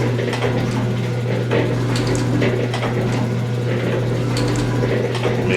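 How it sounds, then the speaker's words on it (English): An 1889 G&E metal shaper runs steadily with a continuous low mechanical drone, and repeated clicking ratchet ticks and metallic taps mark its stroke cycle throughout. "It's working. Ratcheting."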